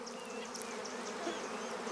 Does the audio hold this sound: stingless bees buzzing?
yes